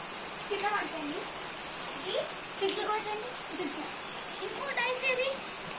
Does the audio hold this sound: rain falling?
yes